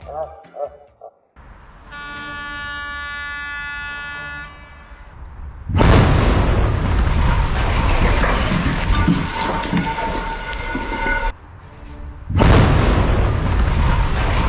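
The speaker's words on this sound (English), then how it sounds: "millions of pounds of concrete and steel collapsed exactly as planned after a controlled explosion calculated down to the millisecond" Controlled demolition in Wuppertal, Germany, as millions of pounds of concrete and steel collapse: after tonal warning horn blasts, a loud booming blast and rumbling roar of falling debris, cut by a brief pause and a second heavy burst.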